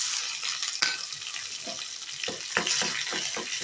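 Curry leaves, ginger and green chilies frying in hot oil for chutney, a steady close sizzle with scattered crackles and pops and a few stirring scrapes, no talking.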